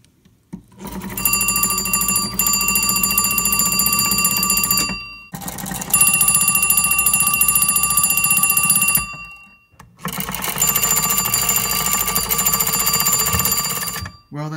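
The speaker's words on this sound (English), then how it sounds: "Let's do a ringing demonstration." An old telephone bell, rung by a magneto box, rings loudly in three long bursts, each a continuous metallic jangle separated by short pauses, close and without talking.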